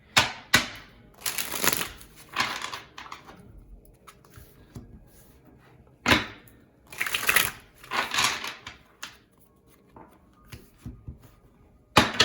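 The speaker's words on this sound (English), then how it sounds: "I haven't used this deck in a while. I forgot how nicely it shuffles." Several bursts of rapid crisp riffling from a shuffled tarot deck, close up, separated by quieter pauses with light handling noises.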